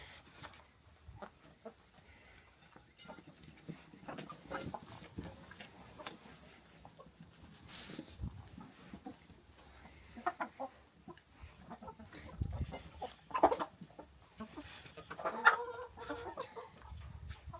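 Farm chickens cluck in scattered bursts, quiet and fairly close, with irregular short calls and soft rustling throughout.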